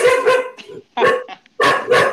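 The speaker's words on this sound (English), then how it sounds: "my dog is even so excited he's going to start barking" A pet dog barks excitedly indoors in several loud, close bursts, with short gaps between them and a couple of quicker yaps near the end.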